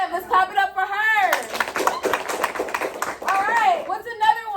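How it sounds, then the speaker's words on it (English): A classroom of students claps for a classmate, a short burst of brisk clapping between a teacher's voice and children's speech before and after. "Let's clap it up for her."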